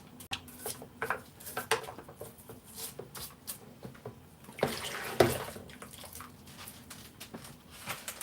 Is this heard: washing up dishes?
yes